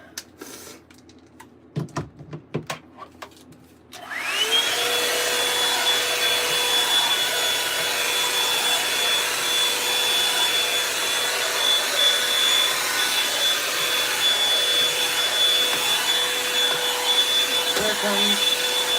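A handheld hair dryer switches on after a few soft clicks and handling noises and then blows steadily and loudly, its whine holding constant as it blows out hair before styling with a Revlon brush.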